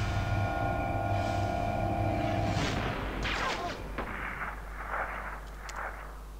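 Sniper fire in the video game Outlaws: a loud, booming shot rolls out with a long echo, followed by a few fainter cracks and reverberant thuds over a low steady rumble.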